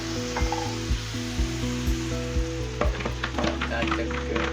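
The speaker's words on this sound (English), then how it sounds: "it's time to throw in our super organic eggs." Eggs and vegetables sizzle in plenty of oil for a veggie omelette, a loud steady frying hiss with a low tonal hum underneath and scattered crackles, with no talking.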